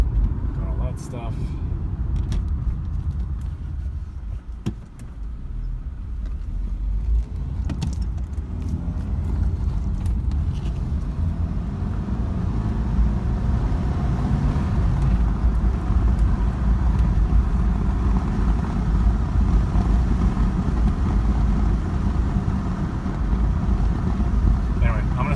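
Steady engine drone from a 2006 Subaru Forester with a 4-cylinder engine while driving, a low continuous hum with wind noise and occasional clicks and bumps throughout.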